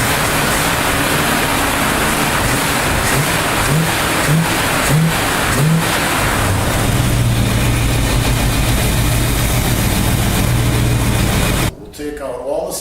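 A pre-warmed AMC Javelin engine idles steadily with a low, even rumble before a compression test, then drops off abruptly near the end.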